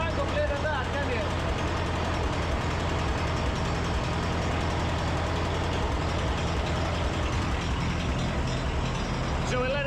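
A Ferguson tractor engine warms up at idle, a steady loud low rumble running throughout at close range, with voices talking over it.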